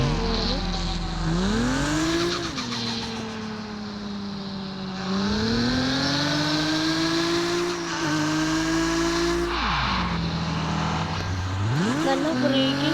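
Toyota Supra MK4 engine in a driving game, revving up and down through gear changes with rising and falling pitch sweeps, steady and close, easing off between pulls as it brakes.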